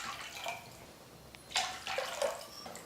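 Water is poured into a pan of pineapple sautéed in ghee, in a couple of short, splashy bursts, fairly quiet and close, with brief pauses between pours.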